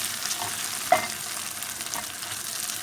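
Meat and peppers frying in a pan, a continuous soft sizzle with a single sharp utensil knock near the start and a light stir after.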